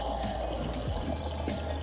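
Petrol pouring from a gas can into the fuel tank of a Lamborghini, a steady, close gurgling stream of liquid sloshing and filling throughout with no talking.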